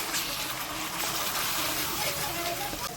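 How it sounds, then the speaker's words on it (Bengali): Water splashes into a pan of frying spices (salt, sugar, turmeric) for a Bengali-style prawn dish, a steady close hiss and sizzle that continues throughout. "সামান্য একটু জল দিচ্ছি"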